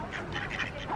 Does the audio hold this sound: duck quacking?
yes